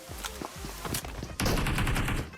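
PUBG Mobile gunfire from a rooftop, a rapid string of sharp close shots that runs into a dense sustained burst of loud automatic fire.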